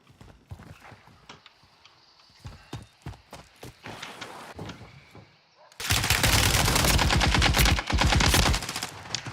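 Rapid bursts of automatic gunfire in a video game, sparse clicks and shots at first, then a loud sustained volley of dense, continuous firing with hoofbeat-like clatter mixed in.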